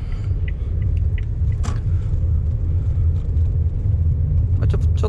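A Suzuki Hustler drives over a rough, heavily stepped road surface, heard from inside as a steady low rumble with occasional soft thuds from the bumps.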